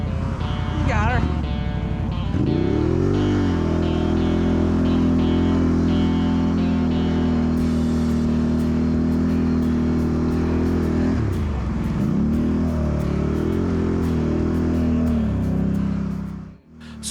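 An ATV engine drones steadily and loudly throughout a ride, with a pitch dip and recovery partway through as the throttle shifts, and voices briefly heard over the engine.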